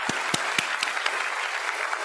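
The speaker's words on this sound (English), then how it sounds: "Let me give him a hand clap for that" A small group claps along with a few sharp, distinct hand claps standing out over a softer steady patter of applause, fairly close and moderate in level.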